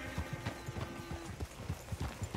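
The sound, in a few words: horse-drawn coach hooves clip-clopping, from a video game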